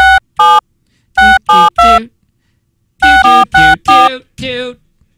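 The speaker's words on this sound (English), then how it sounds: "love of God, answer the phone." A telephone rings loudly and close in bursts of a bright, musical warbling tone, two quick rings, a pause, three more, then a longer run of rings ending in a softer trailing tone.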